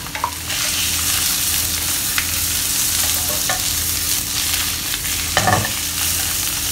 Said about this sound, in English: the reason why I'm frying the mushroom first